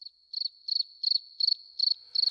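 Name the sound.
crickets chirping sound effect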